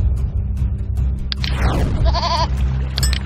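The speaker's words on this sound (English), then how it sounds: "A goat!" A goat bleats in a puzzle video game, a short wavering cry rising out of a busy bed of game sound effects and low background rumble.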